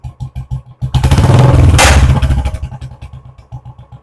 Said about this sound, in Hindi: इग्निशन ऑन कर लिए, बाइक को स्टार्ट कर लिए, थोड़ा टोटल दीजिए